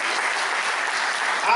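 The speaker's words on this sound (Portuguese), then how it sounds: "Então aplauda ao Senhor por isso." A church congregation applauds steadily and loudly for a brief stretch, a dense wash of many hands clapping with no talk over it.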